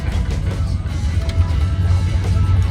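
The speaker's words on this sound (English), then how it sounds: "We're definitely on a dirt road." Car rolling over a rough dirt road with steady low rumble and constant road noise throughout, close and fairly loud, no talking.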